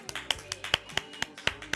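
A studio audience at a music awards show claps in a loose, uneven rhythm of sharp, close smacks, with a voice talking over the applause.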